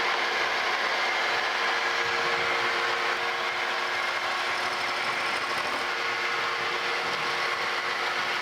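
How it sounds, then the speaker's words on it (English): A carbide-insert end mill cutting A2 tool steel on a milling machine gives a continuous high, hissing whine with a steady mechanical hum underneath, close and unbroken, with no talking. "carbide tipped end mill, carbide insert end mill. Hopefully this will help cut that"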